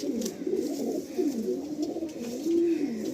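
Andhra pigeons in a loft in Kolkata, cooing in soft repeated rolling phrases, close and fairly quiet, with no other sound competing.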